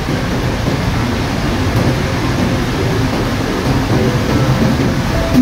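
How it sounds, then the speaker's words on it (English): Rain falls on a rainy morning, giving a loud, continuous broadband hiss with no breaks. It sounds close and steady throughout, and no voices are heard. "It's raining!"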